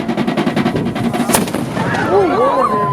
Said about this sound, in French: les Cubains ont pour tradition de tirer un coup de canon, qui signale la fermeture du port